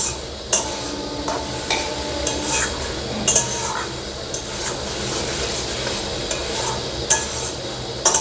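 Green peas and potato ghugni, Bengali style, sautéing in a pan: a steady sizzle with repeated clinks and scrapes of a spoon against the metal, close and without speech.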